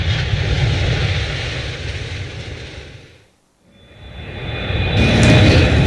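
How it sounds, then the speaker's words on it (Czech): Airliners taking off and landing at an airport runway, heard from an observation deck: a loud, steady broadband engine roar that fades to near silence, then swells back louder with a high whine near the end. "startující a přistávající dopravní letadla"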